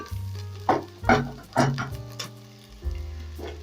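Onions fry in a pan for pilau, a steady sizzle broken by several soft scraping stirs and clinks of utensil against pan, close and moderately loud with no talking.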